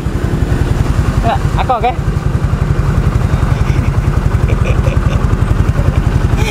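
A Yamaha Mio GT scooter engine runs after a repair for white smoke and hard starting, a close, loud, steady putter with a regular beat, while a voice speaks briefly over it.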